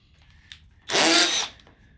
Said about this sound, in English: brushed Milwaukee drill.